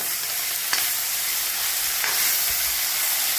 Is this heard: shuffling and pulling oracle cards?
no